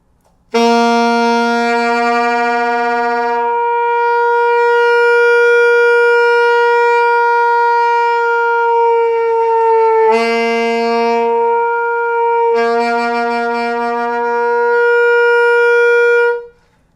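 A sustained saxophone note on G with a rough gurgling buzz that comes and goes, the tone shifting in timbre as it holds for about sixteen seconds.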